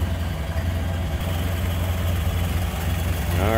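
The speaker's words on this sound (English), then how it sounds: "201 cubic inch, inline four-cylinder, purring right along." Inline four-cylinder 201 cubic inch engine of a 1929 Ford Model A depot hack idling with its hood side open, a steady low even rumble, close and moderately quiet, with no talk.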